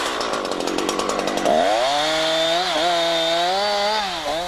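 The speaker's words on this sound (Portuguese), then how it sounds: "Corte os ramos no lado de cima do tronco com a serra deitada." A Husqvarna chainsaw idles with a rapid pulsing chatter, then revs up loud and close as it cuts branches off a tree trunk, its pitch wavering under load for several seconds.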